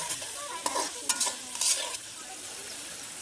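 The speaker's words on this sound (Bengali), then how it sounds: "সেখানে আলু দিয়ে একটু আমি সুন্দরভাবে কষাই নেবো।" Potatoes are stir-fried with spices in a pan, giving soft, irregular scraping stirs over a faint, steady sizzle, heard alone and at low volume.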